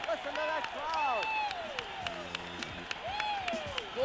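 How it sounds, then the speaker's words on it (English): Boxing arena crowd cheers and applauds at the final bell of a heavyweight fight, a sustained loud roar with whistles, while an announcer talks over it. "Listen to that crowd."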